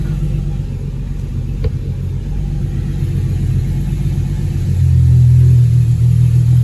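A Holden VY Calais drift car with a manual conversion idles with a deep, loud rumble up close, then the engine note rises and thickens as it pulls away.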